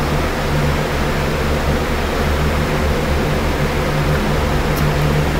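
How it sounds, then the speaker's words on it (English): Several electric fans run at once nearby, a steady loud whooshing drone with a low hum that never changes, filling the whole stretch with no voices. "you may hear a lot of fans in the background"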